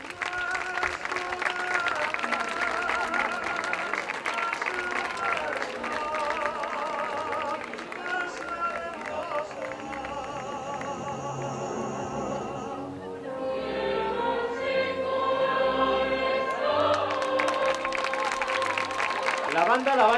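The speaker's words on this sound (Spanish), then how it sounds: "Un aplauso para..." At a Valencian fallas ceremony presenting the year's young festival queen, the crowd's sustained applause blends with loud, bright festive music playing throughout.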